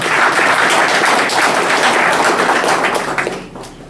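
Audience applause at a book presentation ceremony, a steady dense wash of clapping filling the room for several seconds before tapering off at the end.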